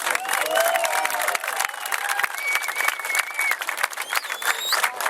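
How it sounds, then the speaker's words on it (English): A crowd at the Special Olympics final leg in San Francisco applauds steadily with dense clapping and a few whistles and cheers, loud and sustained throughout. "Let's give them a round of applause."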